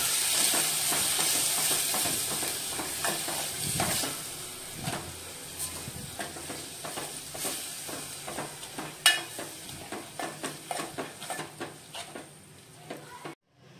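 Ground masala roasts in oil with a soft sizzle while a spoon scrapes and stirs the pan in quick, repeated strokes. The strokes grow busier and more clattery near the end.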